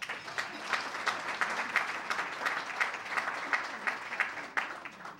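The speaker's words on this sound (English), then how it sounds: "Let's give him a round of applause." A dinner audience applauds steadily, a dense wash of many hands clapping at an even level for several seconds.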